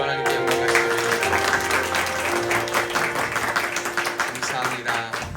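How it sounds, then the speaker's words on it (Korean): A church congregation claps together during Sunday worship after a praise song, steady dense applause filling the room with tonal music or organ notes sustained underneath throughout. "우리 박수로 하나님께 영광 말씀드립니다."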